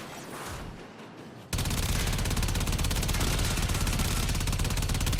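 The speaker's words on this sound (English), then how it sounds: "This felt great, shooting a chain gun like this, floating through space." In the video game Warframe, a chain gun fires in space: a dense, rapid, continuous stream of shots starts abruptly after a quieter opening and holds loud and steady to the end.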